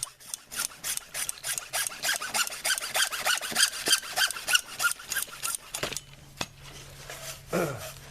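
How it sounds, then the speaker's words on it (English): A handsaw cuts through a piece of PVC pipe in quick, rhythmic back-and-forth strokes, close and crisp, then stops, followed by a sharp click and a brief scrape as the cut piece is handled. "So let's cut off a piece of pipe."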